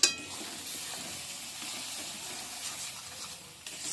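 Spiced pea stuffing with gram flour for matar naan frying in a pan over medium gas, a steady broadband sizzle with soft stirring scrapes throughout, after a brief louder clatter at the start, no voices.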